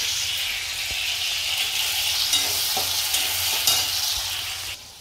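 Loud, continuous sputtering sizzle of wet potato slices frying in oil, with occasional scraping stirs, ending in a sudden drop in volume.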